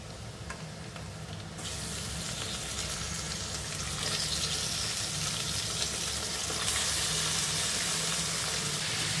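Mutton pieces sizzle loudly in a pan of softened onions, a dense steady frying hiss that swells into stronger crackling partway through as the meat goes in and is stirred, close and continuous with no talking.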